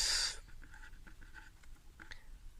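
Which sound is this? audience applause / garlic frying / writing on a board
writing on a board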